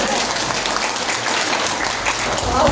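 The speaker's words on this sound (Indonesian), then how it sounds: "Tepuk tanganmu buat saya Mama Dok." Seminar audience at a national youth entrepreneurship event clapping, a short, steady burst of applause swelling slightly toward the end.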